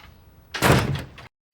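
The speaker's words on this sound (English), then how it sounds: "Shut the door." A door in a drama scene is pushed shut with a single solid thunk and a brief rattling settle, loud and close after quiet room tone, then cut to silence.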